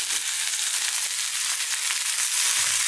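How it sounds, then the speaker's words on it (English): Potatoes, cauliflower, chili and chopped tomato being stir-fried in a pan make a loud, steady crackling sizzle with soft scraping that runs without a break and with no voices. "we're going to stir fry this around again now for about 2 to 3 minutes."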